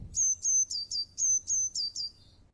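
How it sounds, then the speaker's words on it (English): A Eurasian blue tit sings a rapid series of about eight bright, high, thin notes in even rhythm, clear and close over quiet background. "Blåmes, and in English it is Eurasian blue tit."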